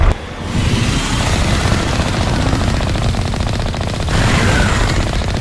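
Sustained rapid gunfire from the video game Mass Effect rattles on without a break, loud and dense over a rumbling battle din, with a brief lull before it resumes near the end.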